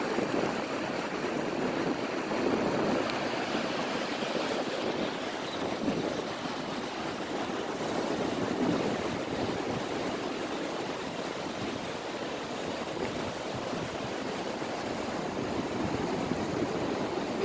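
Strong sea waves washing onto a seashore, a steady, dense broadband roar of surf that stays loud and continuous throughout, with no voices over it.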